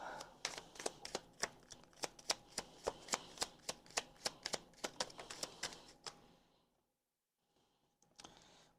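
A deck of tarot cards is shuffled in a rapid run of crisp, close riffling snaps, about twenty quick strokes. Then a pause and a faint rustle, with no talking.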